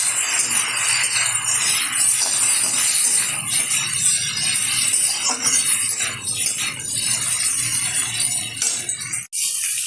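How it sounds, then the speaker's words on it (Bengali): Boiled moringa drumstick pieces sizzle and hiss loudly in hot oil while being stirred, with scattered clinks of a utensil against the pan throughout. "ঢেলে দিচ্ছি তেলের মধ্যে, একটু নেড়ে চেড়ে নিচ্ছি।"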